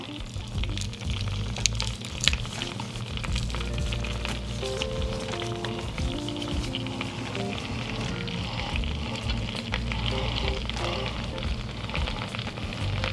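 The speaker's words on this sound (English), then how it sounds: "we wanna add our minced garlic to it right now" Minced garlic sizzles in melted butter in a hot pan for Cajun buttered chicken, a steady close crackling hiss running throughout with faint tonal hum beneath.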